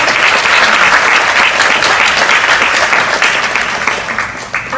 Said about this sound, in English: Can I get another round of applause for Nitya?